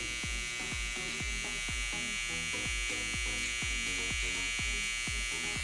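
An electric hair clipper trims a goatee, its steady close buzz repeatedly dipping and rising in short regular strokes as the corner of the blade works the edges, with no speech.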